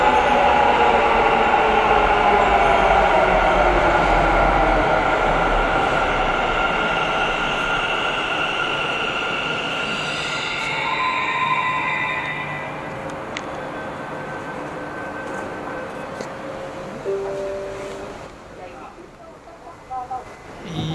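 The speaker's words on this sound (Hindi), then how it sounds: "और ये आ गई है हमारी मेट्रो।" A Bangalore Metro train pulls into the station with a loud, steady rolling rumble and a high electric whine. The whine falls in pitch and the noise fades as the train slows, and some talk can be heard over it.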